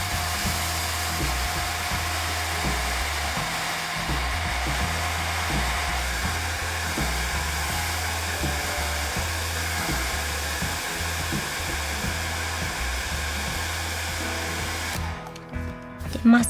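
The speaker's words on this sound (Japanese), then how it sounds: "ドライヤーを使って乾かしてしまいます。" A hair dryer blows steadily on a watercolor pencil painting, a constant close whirring roar that runs unbroken before cutting off near the end with a brief clatter.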